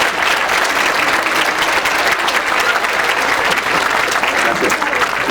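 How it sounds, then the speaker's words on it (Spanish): Loud, sustained audience applause after a talk at a university computing science and technology conference, dense clapping from a large crowd that stays even for over five seconds. "primero un aplauso"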